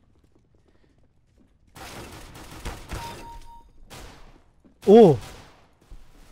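Shotgun fire in the CS:GO video game, several sharp, loud bursts of blasts and clatter in quick clusters, with a man briefly exclaiming and a short tonal effect.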